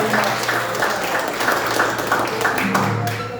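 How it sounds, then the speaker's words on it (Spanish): Audience applause for a Colombian music group at a university book presentation: steady, dense clapping that carries on for several seconds with some murmured voices and faint tonal sound underneath. "Para ellos nuevamente el aplauso, vamos a despedirlo con esta presentación."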